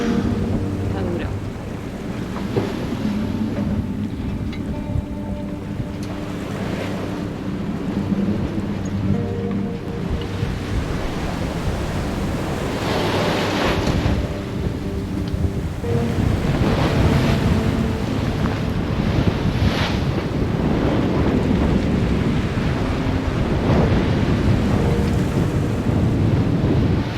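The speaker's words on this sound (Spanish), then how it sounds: "Mucho viento, olas que mojan absolutamente todo." Strong wind roars across the microphone aboard a sailboat at sea while waves surge and crash repeatedly, loud and continuous, with heavy gusts throughout.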